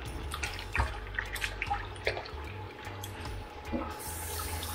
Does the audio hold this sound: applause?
no